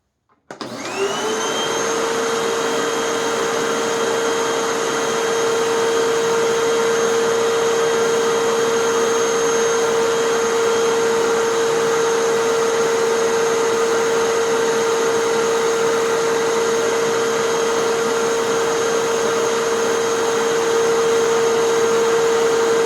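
A Sanitaire EXTEND SC3683D canister vacuum cleaner starts up and runs continuously, a loud steady whine with a high tonal hum, heard from about five feet away with no voices.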